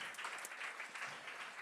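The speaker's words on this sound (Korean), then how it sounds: "주님께 영광의 박수 올려드립니다." Many hands clapping together in a steady burst of applause at a church worship service, fairly distant and evenly sustained without voices.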